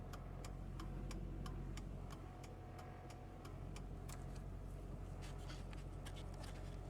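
Hazard flasher on a 2007 GMC Sierra Classic 2500HD SLT Crew Cab ticks in a steady, quick, even rhythm, crisp clicks sitting over a low, constant engine idle hum throughout.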